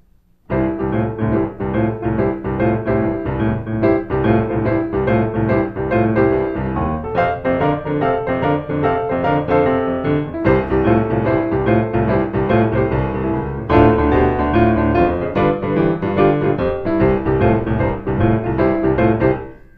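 Upbeat boogie woogie piano rolls along for several bars, moving to the 2 chord then the 5 chord, steady rolling left-hand bass under chords, loud and up close, no voices.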